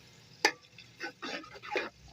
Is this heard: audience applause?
no